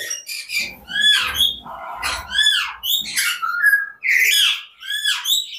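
A pair of cockatoos in a bird shop give loud, close, repeated screeching calls in overlapping bursts, with harsh squawks and whistle-like rising notes and no voices.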